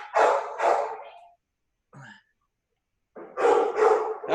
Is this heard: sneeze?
no